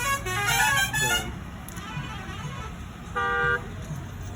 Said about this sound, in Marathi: जेवढे दिंडीमधले ट्रक असतात जे सामान घेऊन जातात ते सगळे असे चाललेले आहेत